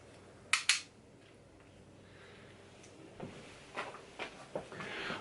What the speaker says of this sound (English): Grab the top of the slide, push forward and pull back.